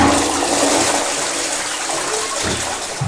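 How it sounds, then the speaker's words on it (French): A toilet flushes loudly and up close, a steady rushing gush of water that holds through the whole stretch with a slight surge near the end. "Donc, activation de la chasse d'eau."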